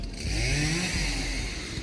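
A chainsaw runs steadily while cutting trees in a city park, a close, loud continuous engine whine with slight pitch wavers and no talk over it.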